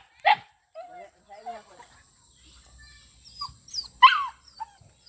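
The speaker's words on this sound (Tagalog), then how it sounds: "Mga aso to." Dogs whimper and give a few short, high yips and barks in sparse bursts, close by, with quiet gaps between.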